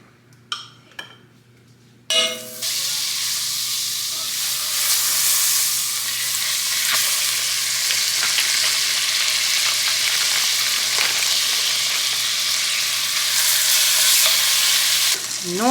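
Pork chops sizzle steadily in a hot pan, and a utensil stirs and scrapes them. The frying stays loud and continuous after a short quiet start with a few light clinks.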